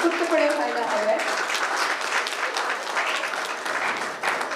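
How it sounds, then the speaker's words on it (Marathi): A crowd claps loudly and steadily at a Navratri felicitation ceremony honouring women, the thick applause holding for the whole stretch with brief voices at the start. "तर जोरदार टाळ्या हा मला ते उत्स्फूर्तपणे व्हायला हवा आहे"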